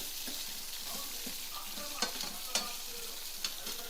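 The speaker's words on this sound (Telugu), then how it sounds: "ఇప్పుడు ఈ అల్లం కూడా ఇందులో వేసుకుందాం ఒక త్రీ మినిట్స్ వేగితే సరిపోతుంది" Ginger fries in a pan with a soft, even sizzle, punctuated by a few sharp clicks and scrapes of stirring, fairly quiet and close with nobody talking.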